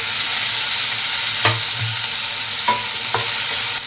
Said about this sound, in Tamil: தக்காளி போட்டு நல்லா மிக்ஸ் பண்ணிவிட்டு